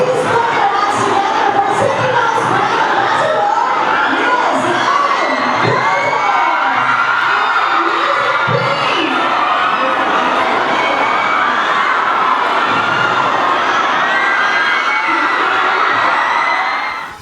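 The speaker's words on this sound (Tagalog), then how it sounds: "the crowd started to shout and cheer." A large crowd at a mall grand opening shouts and cheers continuously, with high-pitched screams and excited voices layered into a loud, sustained roar that stays dense for the whole stretch.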